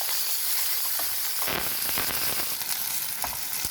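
Chopped onion sizzles in oil until translucent for tomato semiya upma, a loud, steady close frying hiss with a few sharp stirring scrapes and clicks and no voices.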